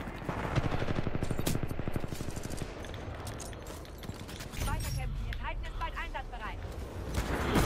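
A mounted turret gun in the Titanfall 2 shooter hammers out rapid automatic fire in dense, loud bursts, with someone talking over the shooting.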